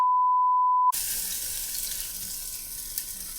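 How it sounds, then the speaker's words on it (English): Tap water runs steadily into a sink for hand washing in a home kitchen, a broadband continuous rush that starts abruptly after a brief steady tone and carries on loud and close with no talk. "I'm going to wash my hands."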